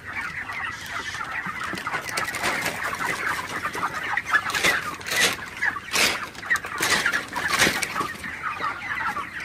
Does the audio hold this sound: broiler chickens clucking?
yes